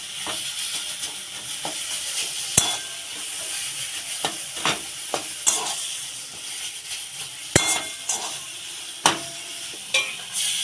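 Okra frying in a pan for a sour chutney, a steady close sizzle broken by frequent sharp scrapes and clicks of a stirring spoon, with no talking.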